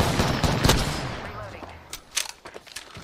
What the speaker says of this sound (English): The triple take is shooting like one at a time.